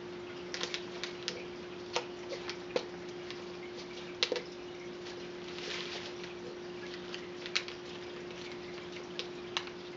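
Paper being folded into an origami tulip, heard as soft scattered creases and light taps over a steady low hum, fairly quiet and close with no speech.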